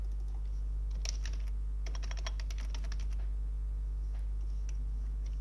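Code typed on a computer keyboard: two short bursts of rapid, close key clicks over a constant low electrical hum, with quieter scattered taps afterward and no voices.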